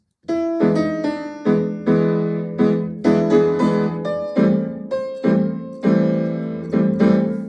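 Piano chords played in a steady rolling triplet rhythm, each beat broken into three notes, with a clear melody ringing above the accompaniment; close and moderately loud.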